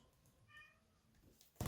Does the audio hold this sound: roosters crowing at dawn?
no